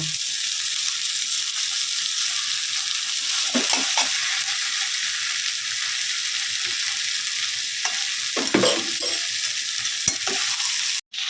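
Ghee sizzles with cabbage for a Bengali fish-head cabbage curry, frying steadily and close, with a few scrapes of stirring near the middle and end, and no voices.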